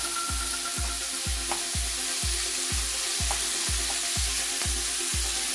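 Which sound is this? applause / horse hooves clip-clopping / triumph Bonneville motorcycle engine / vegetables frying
vegetables frying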